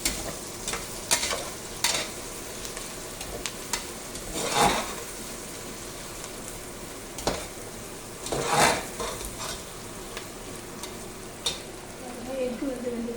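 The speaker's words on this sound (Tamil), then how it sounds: "ஆனியன் ஓரளவுக்கு ஃப்ரை ஆகி இருக்குது." Onions fry in a pan for chicken biryani with a steady sizzle, broken by louder clanks and scrapes of a utensil stirring against the pan.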